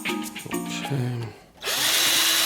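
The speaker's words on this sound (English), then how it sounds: "This is a clear right there where we're going to drill the area." A power drill whirs to life and bores loudly and steadily into a PS3 plastic casing for about a second, after a short stretch of lower motor hum and handling sounds.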